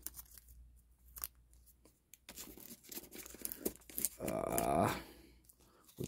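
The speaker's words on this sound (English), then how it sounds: "So let's see if we can get this flip out and get this tape off." Packing tape peeled and torn off a package holding a platinum coin, a close series of crackling rips and crinkles that builds into a longer sustained tear near the end, with quiet handling noises between.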